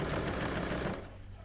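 Sewing machine stitching a lapped zip, a steady rapid mechanical rattle close by that runs evenly, then slows and fades near the end.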